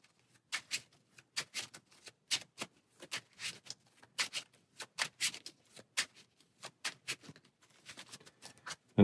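Playing cards shuffled by hand for a Marvel Champions Rise of the Red Skull card game: a steady run of crisp, close riffling snaps and taps in quick bursts, with no voices.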